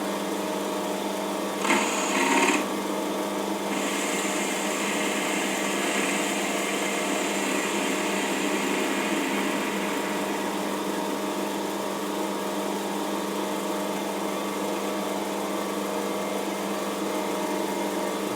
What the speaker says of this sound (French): Un petit dressage vite fait, hein